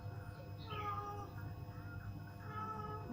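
A cat meows several times in a home, its rising and falling cries standing out over a steady low background hum with faint talk nearby.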